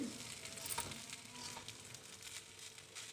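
Cooked rice is tossed and mixed in a pan with paneer for fried rice. A soft, even sizzle runs throughout with light stirring scrapes. It stays fairly faint and close, and no one speaks.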